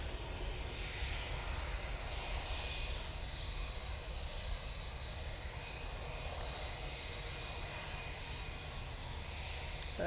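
An Emirates airliner taxiing at Manchester Airport, its steady engine roar and broadband rumble holding constant and fairly close throughout, with no voices.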